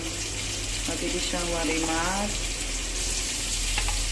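Garlic fries toward brown for chicken adobo, giving a continuous dense hiss that stays loud and even throughout, with a faint tonal warble drifting through the middle.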